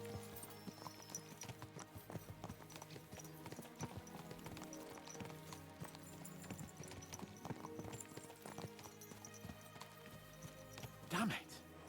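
Horses' hooves clip-clop steadily in Kingdom Come Deliverance 2, a continuous galloping rhythm with music and voices running underneath, and a brief neigh near the end.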